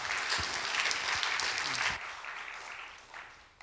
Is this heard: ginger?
no